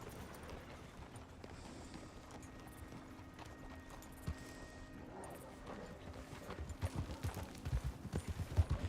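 A horse in Red Dead Redemption 2 moves at a quiet walk before breaking into a faster gait, its hoofbeats turning into louder, rhythmic clip-clops over the last two seconds against faint game ambience.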